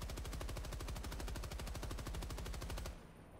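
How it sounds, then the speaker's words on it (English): Rapid automatic gunfire from Helldivers 2, aimed at an enemy's eye: a dense, loud, steady burst of evenly spaced shots running about three seconds, then cutting off into a quieter tail. "Maybe if I just shoot it, like shoot the eye"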